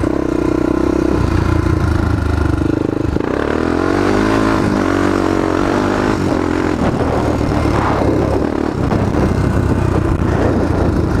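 A Honda TRX400EX quad's engine revs hard and steadily while being ridden, a loud, continuous close-up drone that rises and falls with throttle throughout, with no talking.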